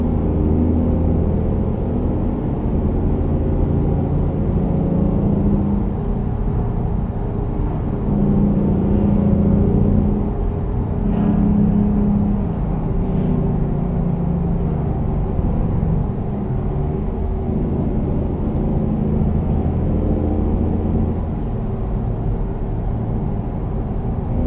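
Steady low diesel engine rumble of a 444 mod truck in American Truck Simulator, idling and running continuously at close range, with brief high whistling tones and a short hiss rising over it.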